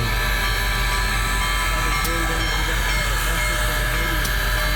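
Union Pacific Big Boy 4014 steam locomotive stands at a station stop in Sterling, a steady loud hiss and low mechanical rumble running without break, with a few sharp clanks and people talking faintly around it.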